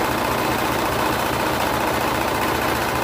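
A sewing machine runs steadily while stitching a cardigan cuff seam, giving a continuous loud, dense motor whir and rapid needle hum throughout with no pauses or talk.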